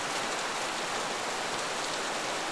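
Rain falls on Paris streets near the Louvre during a storm, a soft, even hiss of drops spread across the street with no distinct splashes or voices.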